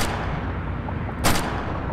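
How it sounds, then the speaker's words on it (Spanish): A heavy gun firing in Dead Trigger 2, with one sharp, loud shot cracking out midway over a dense, noisy background rumble. "Veamos cómo dispara."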